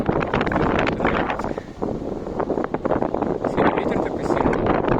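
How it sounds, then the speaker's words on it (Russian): Strong autumn wind gusts across an outdoor microphone, roaring and buffeting unevenly, while people talk over it. "Сегодня ветер такой сильный."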